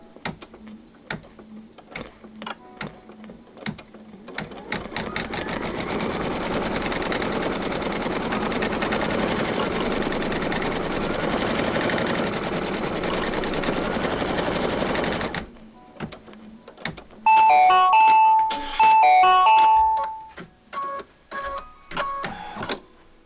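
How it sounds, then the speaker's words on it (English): An embroidery machine sews a placement stitch for a bunny pillow wrap, a dense, steady mechanical buzz running close for about ten seconds, then stopping and giving way to sparse clicks and a few brief tonal beeps. "Here we go with our placement stitch."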